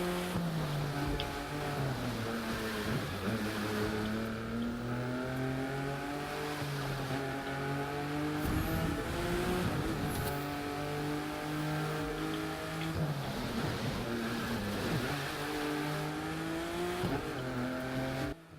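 An Alfa Romeo Giulia Quadrifoglio engine in the video game The Crew 2 drones steadily, its pitch rising and falling as it accelerates and shifts gears, with a synthetic, game-like quality and no talking.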